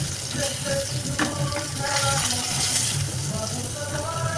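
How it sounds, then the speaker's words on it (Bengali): Sharputi fish fry in a pan with a steady close sizzle, spattering and occasional light clinks running under the whole stretch. "আমি তো মাছগুলো ভেজে নিচ্ছি"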